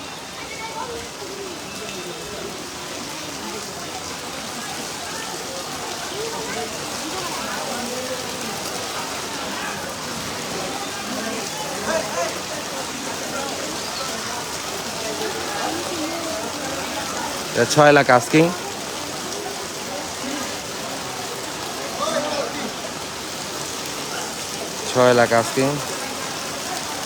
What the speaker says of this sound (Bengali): বৃষ্টি প্রচুর